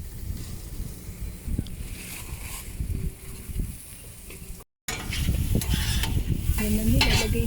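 Noodles frying and being stirred at a street food stall in Bulacan, with a steady sizzle and scraping stirs that grow louder and busier after a brief gap, nearby and without talk.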